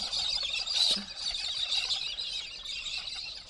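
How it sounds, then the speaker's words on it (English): A large flock of pink galahs calls from a tree nearby outdoors, a steady dense chorus of screeching, chattering bird calls running throughout with one louder burst early on. "That was just a big flock of pink galahs just in a tree not far from here."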